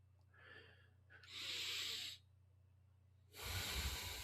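Slow, deep breaths are drawn in and let out close to the microphone, breathy hissing swells separated by quiet pauses over a faint low hum.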